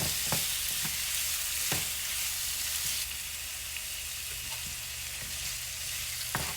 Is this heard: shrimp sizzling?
yes